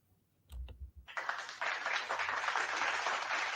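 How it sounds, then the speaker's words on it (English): Applause from an amateur-to-pro event audience starts after a few sharp knocks and swells into a steady, dense wash of clapping that fills the rest of the moment, close and fairly loud. "let's give him a round of applause."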